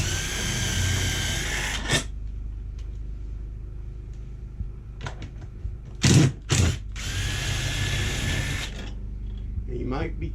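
A power drill backs long lag bolts out of an RV roof air conditioner mount, with sustained whirring bursts broken by short pauses and a few sharp louder spurts, and a voice talking between them.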